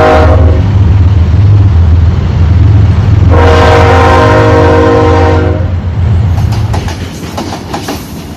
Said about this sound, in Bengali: স্টেশনে অপেক্ষা করার পর ট্রেনটি এলো।